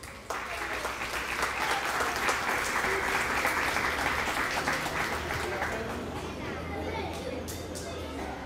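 Parents and guests give loud sustained applause at a school kindergarten graduation ceremony, many hands clapping steadily, with children's voices and chatter mixed in and the clapping thinning out toward the end.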